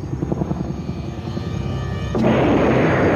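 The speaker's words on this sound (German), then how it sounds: "Der erste sowjetische Hubschrauber wird im Dezember 1982 abgeschossen." Soviet military helicopter with rotor thump and engine whine, heard close and loud, then a sudden harsh burst of noise swells in as it is hit, and no one speaks.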